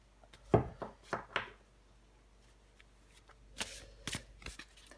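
Tarot cards are shuffled up close in quick riffling bursts, a cluster of crisp flicks followed by a pause and a second set of sharp snaps.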